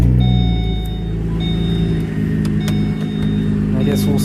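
A car with 108,881 miles is switched on, bringing up a steady low engine hum with chimes and electronic beeps layered over it, and someone speaks at points.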